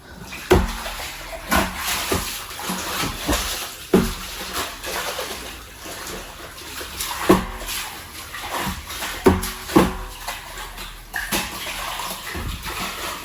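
Water runs and splashes inside a home water tank during cleaning, a continuous wash with repeated sharp sloshes and knocks from scrubbing, close and fairly loud, with no talk.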